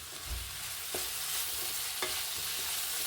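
Onions frying with salt and turmeric in a pan, a soft steady sizzle with a few light scrapes of a spatula, fairly quiet and with no voices.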